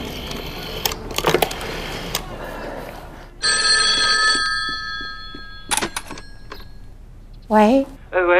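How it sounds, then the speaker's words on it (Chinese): A telephone bell rings in one sustained, bright burst lasting about a second, set among handset clicks, clattering handling noises and a brief voice nearby. "陈老婆，哎，我用一下电话。"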